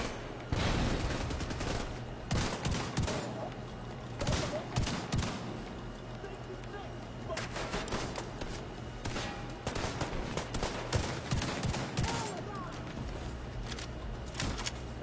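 Sniper turrets fire in a video game, a dense fusillade of repeated gunshot bursts and bangs that keeps going over a low steady hum, fairly loud and close.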